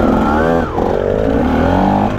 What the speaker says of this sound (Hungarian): Hát ezek a motorok teljesen erre valók, ezek a két ütem.